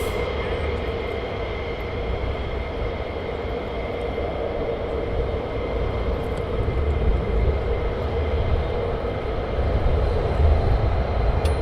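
A fighter jet takes off at RAF Lakenheath, its engine roaring as a dense, continuous rumble that swells slightly toward the end, heard from a distance.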